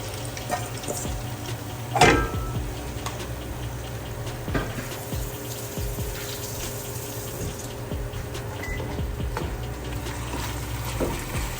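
Chicken pieces dropped into a pan of fried onions give a sharp splash of sizzle, then a steady frying hiss continues with faint scraping and clatter, no voices.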